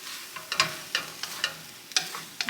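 Fried rice is stirred in a pan with the heat switched off, giving a quick series of close scrapes and clatters over a faint residual sizzle.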